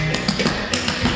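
Clogging dance steps on a floor, a quick run of sharp taps in uneven clusters, close and crisp, with no voices.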